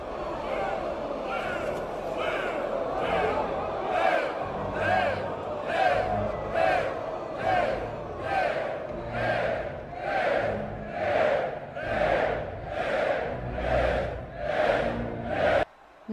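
An arena crowd in the film Gladiator chants and cheers in loud, rhythmic surges about twice a second, a big massed roar that swells and falls steadily before it cuts off abruptly.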